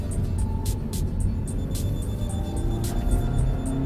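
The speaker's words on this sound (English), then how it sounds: "you can actually even hear the engine revving really high" A manual-transmission car engine runs steadily at high revs in gear, a dense continuous drone that stays loud and close, with faint higher chirps overhead throughout.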